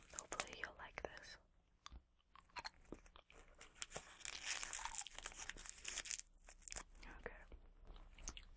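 Hard candy or gum wrapper being unwrapped close up in a quiet ASMR setting, with crisp crinkling and rustling bursts and small taps alongside soft whispering.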